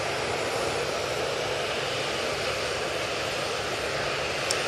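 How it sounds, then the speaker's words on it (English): Aer Lingus A380 airliner on final approach, a steady broadband engine roar that holds at an even level throughout, distant and continuous with no talk over it. "Staying on to final, we have the second of the Aer Lingus A380s."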